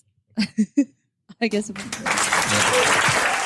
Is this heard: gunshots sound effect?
no